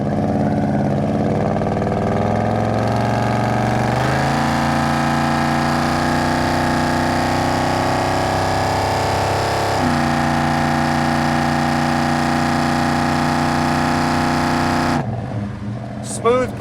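A 1971 Chevrolet C10 pickup's 350 V8 with a 700R4 automatic revs up steadily under continuous load, its tone rising through gears with a brief shift near the end, loud and close.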